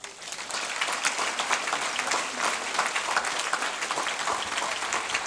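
Steady applause from an audience at a mayor's New Year's greetings ceremony in Roquefort-la Bédoule, moderately loud and sustained throughout without pause.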